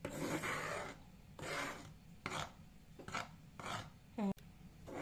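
Flour toasting in a pan for sellou is stirred with repeated scraping, rasping strokes, several separate bursts with short pauses between, close and fairly loud.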